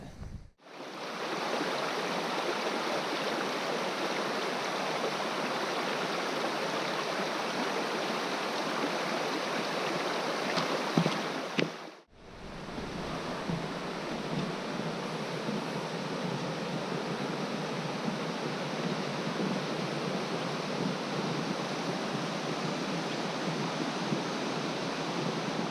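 River rapids at Staircase Rapids in Olympic National Forest, a steady, full rushing roar of whitewater close by, briefly cut off midway and then resuming just as loud.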